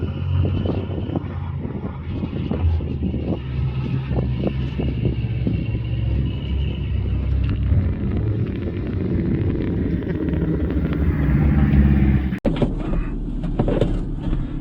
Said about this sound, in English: there's Matt running the little diesel